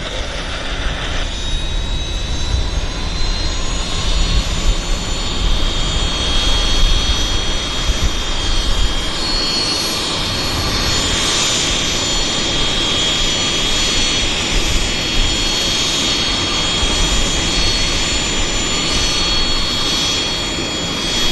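A CRJ regional jet engine spools up at Vancouver airport, with a loud steady turbine roar and a rising high-pitched whine that holds throughout, close and continuous.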